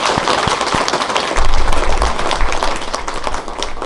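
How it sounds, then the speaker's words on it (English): Audience applause at a historical society quilt turn event, a steady dense wash of many hands clapping throughout, fairly loud and close. "let's give them a big round of applause"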